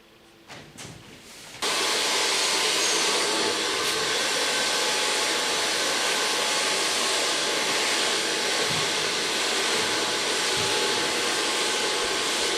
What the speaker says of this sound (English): Now start parting over the skull bone and then blow drying with a large brush.